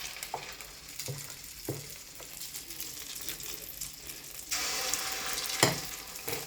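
Small balls of semiya and coconut punugulu batter dropped into hot oil, a steady close sizzle with soft stirring and scraping knocks, the frying growing busier toward the end.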